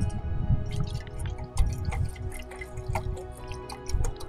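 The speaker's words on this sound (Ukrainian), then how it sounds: "Я наливаю воду." Water poured into a roughly one-litre camping pot, a soft trickling and dripping with scattered splashes and gurgles, fairly quiet and close.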